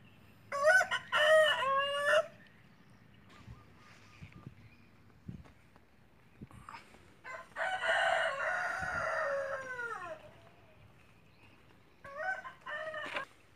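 Roosters crow repeatedly at a Vietnamese eco-tourism farm, several loud nearby calls alongside chickens clucking, separated by short quiet gaps.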